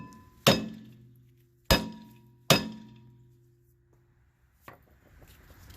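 A hammer strikes the rear brake rotor of a 2013 Ford Focus three times in slow succession, each sharp metallic clank ringing briefly, followed by a fainter knock as the rotor comes loose.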